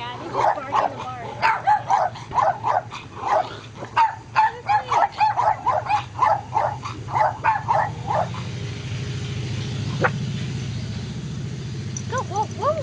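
Little dogs yap in a quick string of sharp, close barks for about eight seconds, then fall quiet apart from a few final yips, while a person talks and a low rumble of traffic sits beneath.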